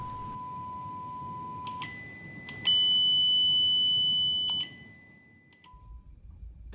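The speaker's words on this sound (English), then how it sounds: "The first test is a classic beep test using a small 8 ohm speaker." A series of electronic beeps from a DIY mini class-AB headphone amplifier through a small 8 ohm speaker: short tones, then a longer sustained beep, over a quiet hum.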